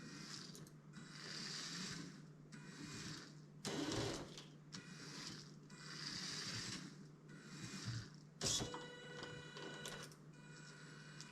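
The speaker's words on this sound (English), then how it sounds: "Now back to the CNC machine. Great, so let's draw a basic letter like a H." An Arduino-controlled LEGO CNC plotter driven by servo motors buzzes and whirs in repeated bursts as it draws a letter H, with sharp mechanical clicks and ratcheting between strokes, close and fairly quiet.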